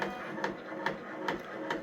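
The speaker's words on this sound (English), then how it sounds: "The machine moves to color number 8 and stitches." A Brother PR1055X embroidery machine stitches a design onto a towel in a magnetic hoop, giving a steady mechanical whir with regular louder pulses about every 0.4 seconds, close by and with no voice.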